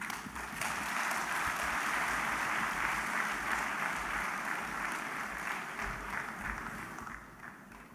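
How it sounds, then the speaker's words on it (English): Conference audience applauding at a bar association opening ceremony, dense sustained clapping from many hands in a large hall that holds steady for several seconds and then begins to thin out at the end. "Can we give a better round of applause"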